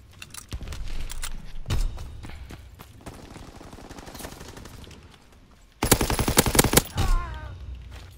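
Gunfire in Call of Duty WWII, scattered single shots followed by a loud rapid machine-gun burst near the end, with quieter clicks and thuds between.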